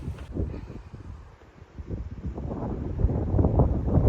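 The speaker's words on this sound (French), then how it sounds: "Il y a beaucoup de vent, j'espère que vous m'entendez bien." Gusty wind buffets the microphone with low rumbling roars that swell and ease, growing stronger toward the end.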